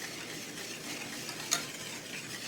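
Whisking a chocolate peanut butter no-bake cookie mixture with melting margarine in a pot: a steady, soft scraping swish that runs throughout, with one brief sharper clink partway through, and no talking.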